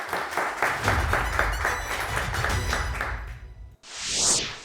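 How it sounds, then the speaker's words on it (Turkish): A burst of steady applause from a studio audience on a word quiz show, fading out and followed by a short rising electronic chime. "Alkışlarla ilk kelimemiz geliyor."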